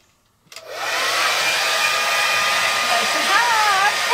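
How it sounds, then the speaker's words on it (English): An 1875-watt hair dryer, powered by a 3000-watt inverter in an RV, switches on after a brief silence and settles into a loud, steady close-up whir. "This is Jenny's 1875 watt hairdryer"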